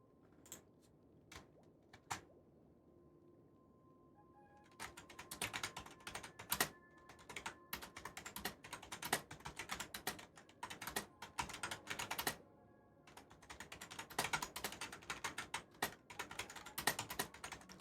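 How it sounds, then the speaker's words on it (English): Rapid, loud clattering of a computer keyboard, in bursts of keystrokes that run nearly continuously after a few scattered taps, close up with no voices. "Sorry, I'm typing so loud,"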